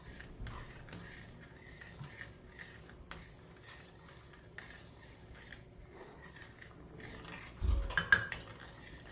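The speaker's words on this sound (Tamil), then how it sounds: "கொதி வந்ததுக்கு அப்புறமா கொஞ்சம் கொஞ்சமாக அந்த மாவை போட்டு அப்படியே கை எடுக்காமல் கிளறி விட்டுக்கிட்டே வாங்க." Rice flour dough being stirred in a pot makes quiet scrapes and soft clinks of a spoon against metal, faint and irregular, with a few louder knocks near the end.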